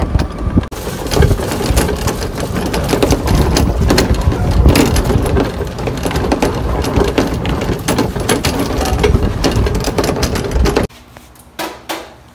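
A homemade golf cart drives along, a steady close rumble of motor and rattling chassis that cuts off abruptly near the end, leaving a few faint clunks.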